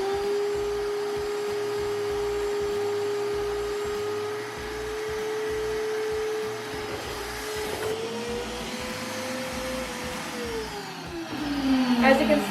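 A vacuum cleaner sucks the air out of a trash bag with a steady, loud motor whine whose pitch shifts as the bag tightens, ending with a rougher surge.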